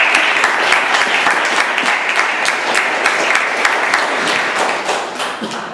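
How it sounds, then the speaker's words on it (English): An audience at an evaluation session applauds steadily with dense, sustained clapping that stays loud throughout and eases slightly at the end. "So can we give him a round of applause?"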